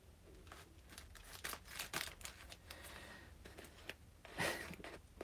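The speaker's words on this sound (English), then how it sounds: "Got scissors. Got to be safe with these scissors." Sharp snipping and crinkling sounds from scissors come in short bursts, close by, with a few louder cuts among quieter rustles.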